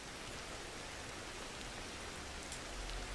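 Rain in Ancestors: The Humankind Odyssey falls in a constant, even hiss of countless drops on the ground, with no other sound breaking through.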